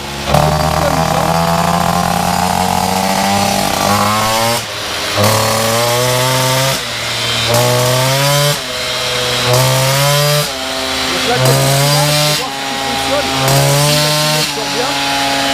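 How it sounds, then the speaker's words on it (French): A Peugeot 103 moped engine fitted with a Polini 70 kit warms up from cold on a roller dyno, its loud two-stroke note rising and falling in repeated rev bursts with short pauses between them. "on est vraiment en train de faire chauffer le moteur qui fait froid."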